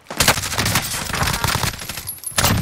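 Dense automatic gunfire from a Bullfrog submachine gun in Call of Duty Warzone, a loud sustained burst of rapid shots that briefly drops off and then resumes, with no voices over it.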